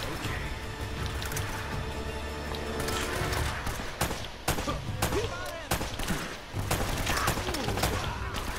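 Gunfire in Uncharted: Drake's Fortune, a run of sharp shots and rapid bursts over a dense game soundscape, with a voice talking at times.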